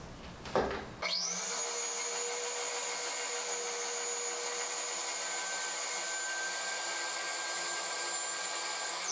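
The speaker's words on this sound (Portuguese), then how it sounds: "com a batedeira ligada na velocidade baixa, eu vou acrescentando o leite aos poucos" Electric stand mixer switching on and running steadily at low speed while warm milk goes into a chocolate cake batter, a constant motor whir with a high whine, alone and without talk.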